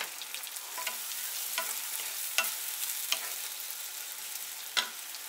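Chopped onions frying in a pan with chopped tomato added, a soft steady sizzle broken by several sharp stirring scrapes and clicks.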